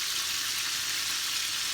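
Chicken pieces deep frying in hot oil for KFC-style fried chicken, a steady, even hiss and crackle close by with no talk.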